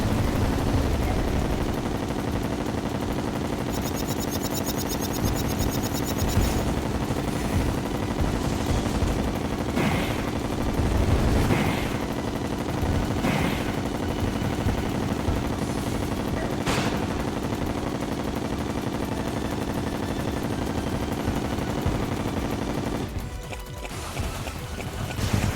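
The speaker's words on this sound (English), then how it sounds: "This gun is so loud." Loud, dense gunfire from a ranged weapon in Terraria Calamity, a steady barrage of rapid shots running nearly the whole time over busy game noise, with a few sharper bursts standing out.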